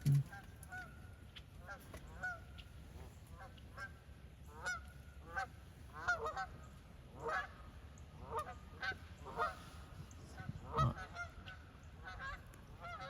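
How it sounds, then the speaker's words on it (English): Geese honking repeatedly in agitated, uneven bursts, several loud calls overlapping at mid distance, with some rising to sharp peaks before trailing off. "Sounds like the birds are upset."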